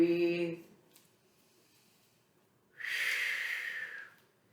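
Heavy breathing during an indoor full-body workout: one long, loud, breathy exhale, close and alone, following a brief voiced sound and a near-silent pause.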